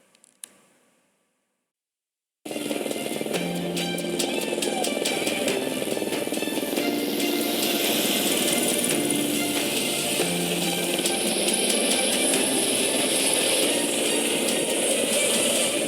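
A tourist helicopter in Muvattupuzha, Kerala, on an Onam joyride flight runs with a loud, steady engine drone and fast rhythmic rotor ticking, starting abruptly after near silence and holding continuously.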